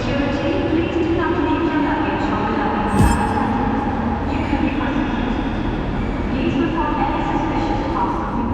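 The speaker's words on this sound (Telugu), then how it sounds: "and the train is moving" A train heading from Bordeaux toward Paris rumbles along with a steady low drone and faint rail noise, heard from inside the carriage under a voice speaking.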